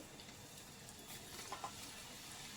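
Okra snacks sizzle steadily in hot oil, a soft continuous frying hiss with a few brief crackles, quiet and without talk.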